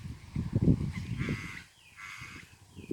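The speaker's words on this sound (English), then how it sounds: "you can hear the birds" Birds calling outdoors, a few harsh honking, goose-like calls in quick succession, fairly close, fading to quieter background sounds.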